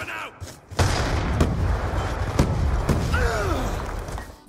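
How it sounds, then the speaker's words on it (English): Grenade explosions from various video games give a deep boom followed by rolling, rumbling blasts and a few sharp cracks, loud and close, with a brief voice near the end. "when you manage to send it flailing back into your face and blow yourself up instead"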